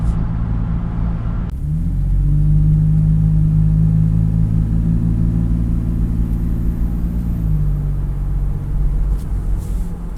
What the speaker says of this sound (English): there's that really deep, throaty growl as you get on the accelerator at lower speeds